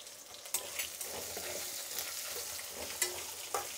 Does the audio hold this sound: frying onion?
yes